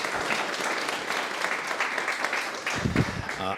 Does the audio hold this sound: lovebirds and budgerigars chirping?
no